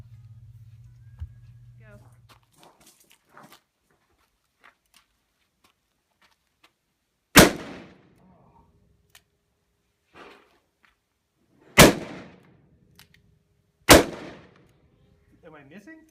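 Three loud, sharp gunshots from a Ruger Super Redhawk Alaskan .44 Magnum revolver crack out several seconds apart, each with a short ringing tail, after a stretch of low hum and quiet shuffling.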